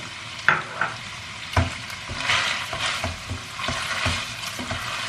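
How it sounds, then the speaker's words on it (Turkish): Steady sizzling of chopped onion frying with minced meat in a pan, with occasional scraping stirs and clinks of a utensil against the pan. "Soğanla beraber tekrar kavurmaya devam ediyorum."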